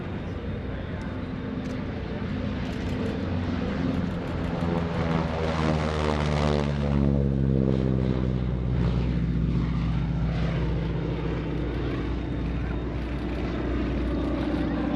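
Propeller airplane performing a victory roll at the NAS Oceana airshow, its engine drone swelling loud as it passes overhead, pitch sliding down like a Doppler sweep, then fading, with a faint voice over crowd ambience.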